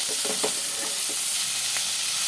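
Sizzling of cauliflower and potato in a pan under a few scattered scrapes and stirs, the frying hiss continuous and close.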